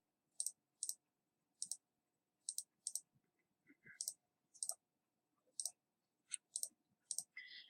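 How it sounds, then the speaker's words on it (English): Calculator keys pressed to type in data values: sharp plastic clicks in short pairs and single taps with gaps between them, close and fairly quiet, with a few faint electronic beeps. "I'm going to go ahead and type them in."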